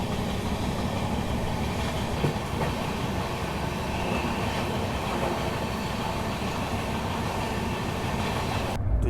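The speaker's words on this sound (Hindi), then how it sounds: "वो देखो वो आपको मरुधर एक्सप्रेस जाती हुई दिख रही होगी।" Marudhar Express train passing on an Indian railway, a loud continuous rumble and clatter of wheels and carriages lasting throughout, close by and steady, without talk.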